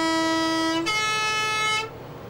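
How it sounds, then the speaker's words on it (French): A Swiss PostBus in the mountain villages of Val d'Anniviers, Valais, sounds its three-tone horn: a loud, rich sustained chord that steps up in pitch partway through, then cuts off, heard alone. "Dans les villages du Val d'Anniviers, dans le Valais suisse, on connaît bien ce klaxon."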